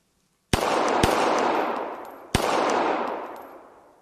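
Gunfire in a VR practical shooting game on Oculus Quest 2: three sharp, loud virtual shots, each cracking out and then trailing into a long, fading reverberant tail, with the first two close together and the third after a pause.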